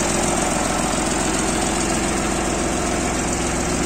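A 2012 Jinma 244 Chinese tractor idles close by, its engine a steady, loud, even rumble with a constant chugging beat and no change in speed throughout.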